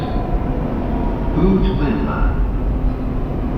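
Continuous low rumble and roar of a Dubai Metro Green Line train moving along the tracks, steady and loud, with faint voices underneath.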